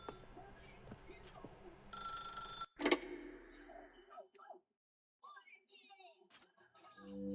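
An old-fashioned telephone bell rings in the video game The Stanley Parable, a short loud ringing burst in the middle amid softer game ambience and clicks, with quiet stretches around it.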